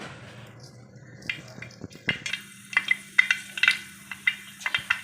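Mustard seeds and fenugreek popping and sizzling in hot oil for a gooseberry pickle, with quiet frying hiss under a run of sharp, irregular crackles and pops that grow busier toward the end, close by.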